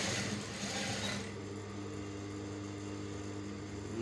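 A sewing machine stitching along a shirt placket runs as a continuous close mechanical hum, with a brighter whir at the start that settles into a steady drone.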